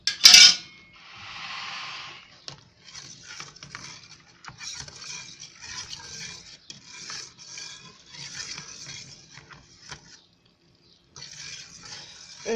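A spoon stirs homemade yogurt in a pot, giving repeated scraping and clinking strokes against the metal. A louder rattle comes at the start, the strokes run steadily, and there is a brief pause near the end.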